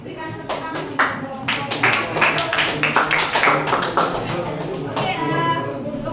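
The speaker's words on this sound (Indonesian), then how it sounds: "Silahkan dulu berikan tepuk tangan." Classroom of students clapping, a burst of uneven applause rising quickly and holding for several seconds with a few scattered claps, voices mixed in.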